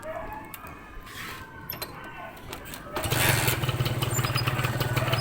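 Honda Tena New motorcycle from 2000 starts up partway through and then idles steadily and fairly loudly nearby, its low even engine note holding after a quieter stretch of background noise.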